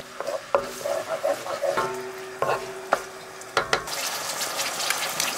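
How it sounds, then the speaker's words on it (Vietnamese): A spoon stirs seasoning into sauce for pork belly in a pot, with soft scraping and clinks against the sides; a faint sizzle and hiss rises toward the end. "Khuấy cho tan gia vị."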